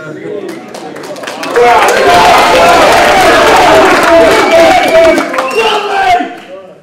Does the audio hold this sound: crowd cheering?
yes